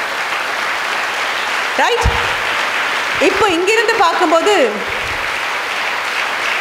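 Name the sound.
audience applauding in a school hall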